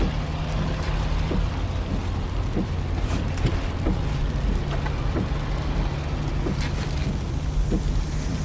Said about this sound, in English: This is the sound of your ride home with Dad after he caught you vaping.